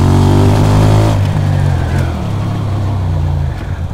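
A QJ Motors SRV 300 motorcycle engine revs loud and close, with a deep throaty drone that climbs, dips after a gear change and carries on steadily.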